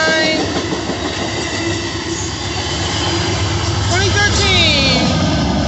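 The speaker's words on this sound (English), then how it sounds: "There goes that train, guys." An Amtrak passenger train with a cab car and F59 locomotive rolls past close by, a loud continuous rumble of wheels on rails with squealing and clattering tones rising as it goes by.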